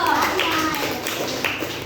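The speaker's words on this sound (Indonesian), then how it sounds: "tepuk tangan buat Miko" Children in an Indonesian classroom clap for a classmate, a brief burst of light, scattered hand claps with young voices and chatter mixed in.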